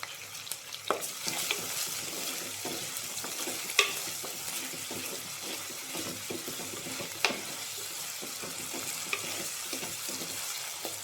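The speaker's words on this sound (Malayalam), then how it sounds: "സവോള ഒന്ന് വഴന്ന് വരണം. ഉള്ളി ഒന്ന് വഴന്ന് നിന്നു." Onions sauté in a pan for a Kerala curry, a gentle continuous sizzle with frequent light scraping and tapping of a spatula, quiet and close, with a couple of sharper clinks.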